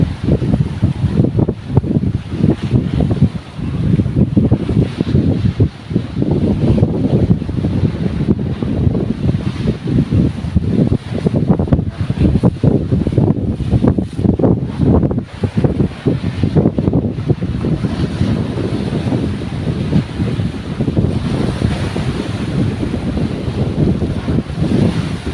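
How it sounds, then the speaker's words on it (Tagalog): Big sea waves out on open water, heard from a small boat off the Philippine coast, with a continuous loud roar of surf and rushing water mixed with heavy wind buffeting the microphone. "Ang lalaki ng alon sa laot mga bro."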